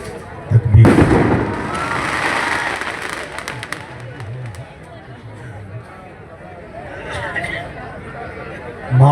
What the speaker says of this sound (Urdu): پیچھے شادی ہال ہے، وہیں سے پٹاخے کی آواز آ رہی ہے